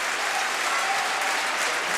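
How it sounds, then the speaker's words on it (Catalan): Spectators applauding during a youth Valencian pilota final in Alcàsser, a steady wash of clapping from the crowd, even and continuous without breaks. "torna a aplaudir el públic"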